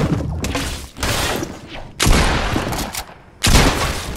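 Shotgun blasts in an online shooter video game, three heavy booming shots spaced a second or more apart, each with a long noisy decay, loud and close.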